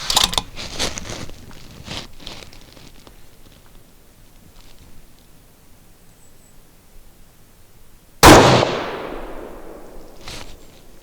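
A single sharp, loud precision rifle shot fired while zeroing a Schmidt & Bender PMII scope at the range, cracking suddenly out of quiet background rustle and trailing into a brief decaying echo.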